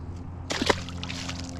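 A bass released back into a river in Greenville, North Carolina in winter makes a single sharp splash and slosh close by, with a low engine hum steady underneath.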